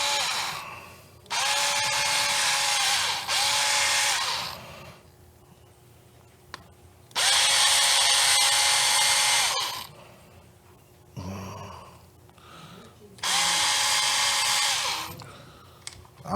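A power drill driving bolts while assembling an INJORA IR40 half truck whirs in three long bursts with quiet gaps between them, each run steady and loud, with some clunking handling noise in between.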